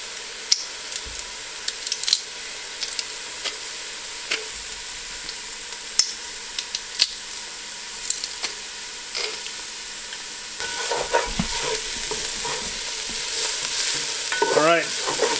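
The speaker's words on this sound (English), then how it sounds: "we're mixing up the onions and the garlic here" Onions and garlic sizzle steadily in warm olive oil in a pan, with a spoon or spatula scraping and stirring through them, close and continuous, growing busier toward the end.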